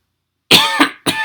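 A person coughs three times in quick succession, harsh and close, the first burst longest, with no talk.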